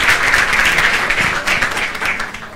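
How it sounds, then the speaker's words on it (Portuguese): An audience applauds a speaker named Alexandre at a talk, a steady, fairly close wash of many hands clapping with no voices over it. "Vamos dar uma salva de palmas para ele."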